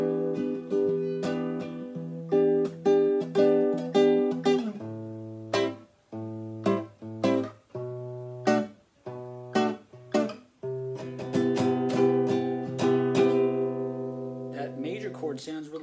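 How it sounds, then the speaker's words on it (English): Guitar strumming three minor 7th chords and resolving on a major 7th chord in a jazz style, repeated rhythmic strums ringing clearly and close, with no talking. "So three minor 7th chords using the shapes I showed you, and then ending it with a major."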